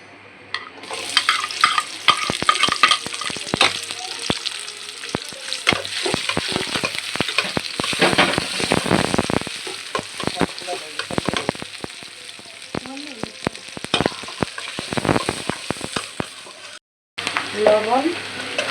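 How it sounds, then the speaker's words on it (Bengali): Okra fries in hot oil in a heated kadai, a steady loud crackling sizzle broken by repeated scraping stirs and clatters of the spatula, with a brief gap near the end and no talking. "ভেন্ডি ভাজি করবো।"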